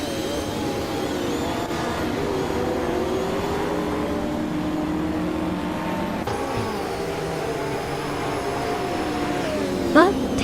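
A 1989 Ferrari F40 competition racing engine in a racing video game, a steady, droning engine note holding for about ten seconds with shifting pitch, while a voice talks over it.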